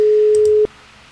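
A telephone busy signal sounds after a caller hangs up, one steady loud tone that cuts off abruptly, followed by quiet line hiss.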